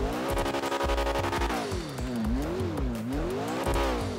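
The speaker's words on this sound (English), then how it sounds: "the sound of the car has been changed to a sound of a supercar" Simulated supercar engine in GTA V on a FiveM roleplay server, a T20 fitted with a custom engine sound, revving loudly and continuously with rising and falling pitch as it accelerates and shifts, alone without talk.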